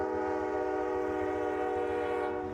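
A freight train passes on the CC Sub in Kentucky, its chord horn sounding one long, loud, sustained blast over the low rumble and clatter of the train.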